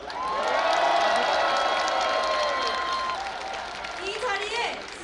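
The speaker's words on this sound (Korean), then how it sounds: "이 순간 우리 모두를 향해 서로를 응원하는 마음으로 큰 함성과 뜨거운 박수 부탁드리겠습니다" Large outdoor crowd at a political rally in a city square, cheering and applauding with loud sustained roaring and clapping, sirens or whistles rising above it, mixed shouts and calls throughout.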